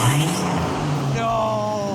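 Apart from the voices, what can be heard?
turbocharged Jeep Wrangler engine revving through custom exhaust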